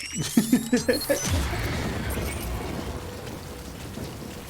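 Rain falls in the video game Death Stranding as a steady, soft broadband hiss after a brief voice-like sound at the start, continuing evenly to the end.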